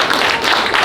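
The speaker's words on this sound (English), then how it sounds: "with a clap" An audience at a governance evening talk claps together, a dense, loud, steady patter of many hands.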